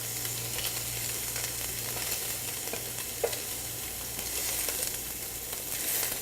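Shrimp sizzle in a pan with an even, hissing fry close by and a faint low hum under it, broken by one brief knock of a utensil partway through.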